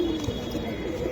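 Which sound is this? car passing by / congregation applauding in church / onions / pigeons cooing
pigeons cooing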